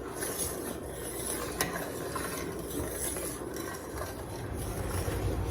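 A spoon stirs a thickening candy apple jelly mixture in a bowl, giving a continuous close scraping and sloshing texture with faint clinks, steady and without speech.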